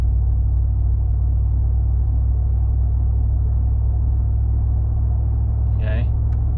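A 2019 Ram 1500 with its muffler deleted cruises in high gear, producing a deep, steady droning exhaust rumble that stays constant, with a brief sound near the end.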